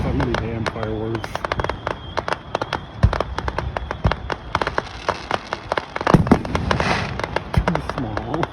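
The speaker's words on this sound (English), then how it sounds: "fireworks." A Fourth of July fireworks display in Gouverneur, New York, with rapid crackling pops and scattered louder bangs throughout. Spectators talk over and between the bursts.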